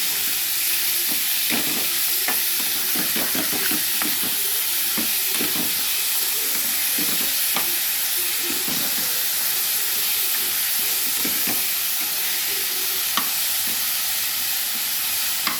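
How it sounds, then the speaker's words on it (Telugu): Minced keema cooking with brown rice for tomato rice gives off a steady broadband sizzle and steam hiss as water boils away, with scattered soft stirring clicks and scrapes throughout, fairly close and continuous. "ఇంకా నీళ్ళన్నీ బయటకు వచ్చేసిన దాకా, ఈ నీళ్ళన్నీ ఆవిరైపోయిన దాకా ఉడికించుకుందాం"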